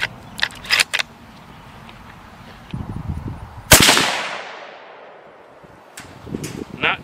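A single sharp, loud rifle shot from a 6.5 Creedmoor firing Norma Whitetail ammunition at a shooting range, with a long decaying echo. Brief clicks and handling noises come before and after it.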